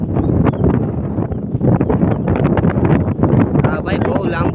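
Strong wind on a hilltop buffets the microphone in loud, continuous rumbling gusts, with voices partly buried beneath the roar.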